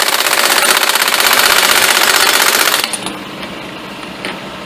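An impact wrench fitted with a torque stick hammers a front hub nut on a 2000-2013 Chevrolet Impala in a loud, rapid rattling burst for nearly three seconds, then stops, leaving faint shop noise with a few small knocks.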